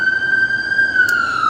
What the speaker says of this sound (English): See, that's what the siren's for.